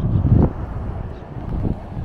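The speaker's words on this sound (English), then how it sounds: "I'm standing with my back to the wind because it got kind of windy" Wind blows near a bay at Oysterville, rumbling low against the microphone with a strong gust at the start, then steadier buffeting that swells again toward the end.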